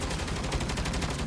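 Turret gunfire in Saints Row, a loud, dense stream of rapid automatic shots firing steadily throughout with no pauses.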